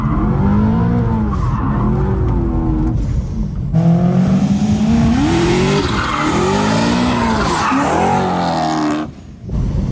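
A car drifts through a corner with loud engine revving and long, wavering tire squeals. The engine pitch climbs and falls as the tires skid continuously for most of the moment.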